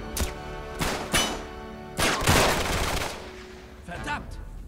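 Gunfire in the video game Uncharted 3, set in a London Underground level: loud bursts of shots and rapid automatic fire crackling in quick succession over a noisy game soundscape.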